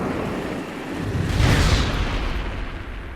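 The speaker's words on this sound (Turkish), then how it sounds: "Füze gönderdik lan Rusya'ya gidiyor. Tüh patladı vallahi yolda." A missile in the Just Cause 3 video game explodes in a broad, rumbling boom that swells midway through a steady roar of noise, loud and without speech.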